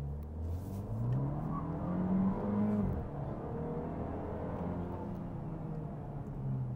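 A sporty Fiat Fastback Abarth accelerates hard from a standstill in first gear, its engine note climbing steadily in pitch, dipping briefly at a shift, then droning on at a strong, even level.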